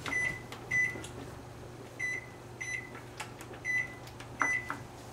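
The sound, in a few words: kitchen timer being set for 20 minutes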